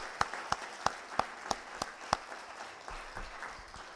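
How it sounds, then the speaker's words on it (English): A few sharp, evenly spaced claps ring out, about seven in a row, from a conference audience, then give way to a quiet, muffled room murmur. "Can we have a louder round of applause"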